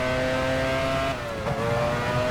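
An F1 race car engine in the game F1 Challenge 99-02 screams at high, steady revs, briefly dipping as it shifts or passes, loud and continuous with no talking.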